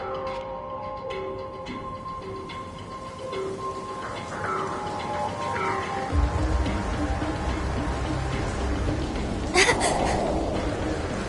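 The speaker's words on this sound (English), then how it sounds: "Just started raining over here." Rain begins falling in the horror video game The Quarry, a steady close patter and hiss that grows slightly heavier partway through, with faint tonal sounds in the background.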